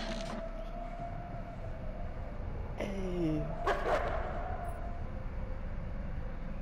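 A wolf in Until Dawn gives a sharp bark and a falling whine-like call midway through, standing out over a steady low background drone and fading afterward.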